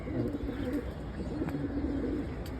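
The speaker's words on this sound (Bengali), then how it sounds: "সবচেয়ে বয়স্ক এবং পুরান জিরাগলা মাদি কবুতর এটা" An old female Jiragola pigeon cooing close up, low rolling coos repeating in a steady rhythm with faint chirps in the background.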